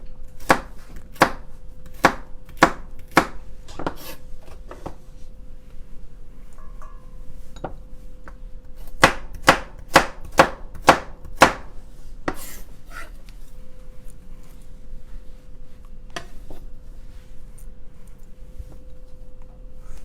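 Steady knife strokes chop purple carrots and other salad vegetables on a cutting board, coming in quick close bursts of sharp even taps with pauses between runs, and no voices over them.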